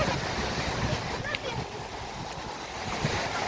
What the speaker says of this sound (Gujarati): જો કંઈક આવી રીતનું પાણી આવે છે ભાઈ દરિયાનું